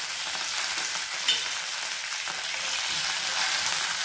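Curry leaves, green chili and other curry ingredients fry in a pan for Bombay chutney, a loud, even hiss of oil that runs unbroken, with one brief click partway through.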